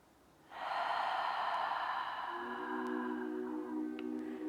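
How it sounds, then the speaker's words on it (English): A single long, deep breath exhaled slowly and steadily during a grounding relaxation exercise, close and clear, softening toward the end as a faint low tone rises underneath. "Exhale."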